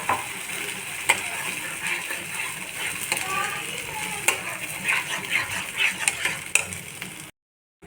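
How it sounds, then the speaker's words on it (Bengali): A tomato-based paste with turmeric and Kashmiri red chili powder fries and is stirred in a pan for paneer butter masala, giving a close, steady sizzle with scraping spoon strokes while someone talks over it. "এটা একটু ভালো করে নাড়তে হবে"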